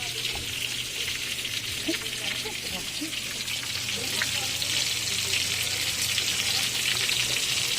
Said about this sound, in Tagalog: Luto siya ng fried chicken.